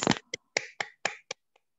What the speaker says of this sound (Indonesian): Oke, tepuk tangan dulu dong buat Tuhan Yesus.